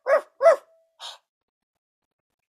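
Dog barks in a children's sing-along song: two quick close barks and a softer third, short and sharp, in otherwise quiet surroundings.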